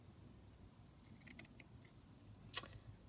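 Scissors trim around a paper pocket at a craft table, giving several quiet snips and one sharper cut near the end, close and faint with no talking.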